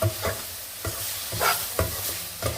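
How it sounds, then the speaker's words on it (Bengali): Bay leaves, cardamom and cinnamon hit hot oil in a pan, making a steady frying hiss broken by rhythmic stirring scrapes every half second or so, close and fairly loud, with no speech. "তাছাড়া আমি এখানে তিনটি তেজপাতা দিব এই মশলাগুলো এখানে আমি ছেড়ে নিব এখানে"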